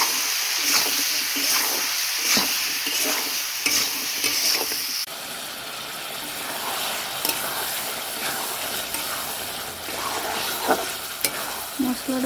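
Masala of ginger-garlic paste being sautéed in a pan, with dense continuous sizzling and frequent scraping stirs throughout. The sound is close and fairly loud, and no one speaks.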